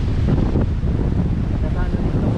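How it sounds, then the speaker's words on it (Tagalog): Strong wind on a rainy coast buffets the microphone in a steady, heavy rush of low rumble, with faint surf beneath it, while fishing by the sea in Bicol, Philippines. "tsaka ang lakas ng hangin."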